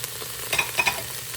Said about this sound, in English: Let's go ahead and add in our beautiful yellow and red peppers.